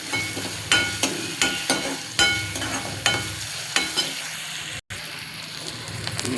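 Chopped onions with green chili paste fry and sizzle in a pan, with a steady hiss broken by repeated sharp clinks of a spoon stirring, close and fairly loud.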